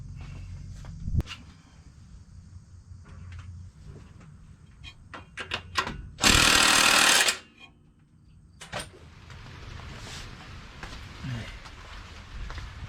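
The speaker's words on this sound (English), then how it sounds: "Got crank position sensor in and lined up good, so let's tighten that bad boy up." A hand tool tightens a crank position sensor on a Buick Reatta, giving scattered sharp metallic clicks and ratchet taps and one loud burst of rasping ratcheting in a quiet garage.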